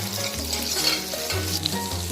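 Onions and green chillies sauté in a pan, a steady close sizzle with stirring scrapes throughout and no talking.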